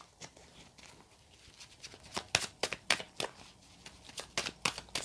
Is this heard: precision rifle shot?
no